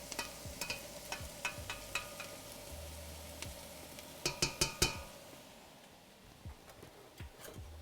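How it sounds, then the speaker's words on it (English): Onion, shallot and fennel cook down in a pan for a cioppino seafood stew, giving a soft steady sizzle under a run of sharp clinks and scrapes from stirring, with a quieter stretch near the end. "it's gonna take about 10 minutes to cook the onion, shallot, and fennel down"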